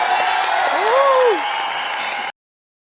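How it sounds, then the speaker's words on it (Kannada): Loud audience applause and crowd noise fill a comedy stage show for about two seconds, with a rising and falling whistle or whoop over the clapping before it cuts off abruptly. "ಈಗ ಬರ್ಲಿ ಜೋರಾದ ಚಪ್ಪಾಳೆ ನಮ್ಮ ಬೂಪನಿಗೆ."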